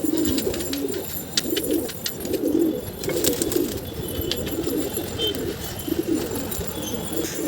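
A pigeon coos steadily in repeated low phrases while perched on a basket, close by and fairly loud, with faint chirps of other birds and light outdoor noise around it and no talking.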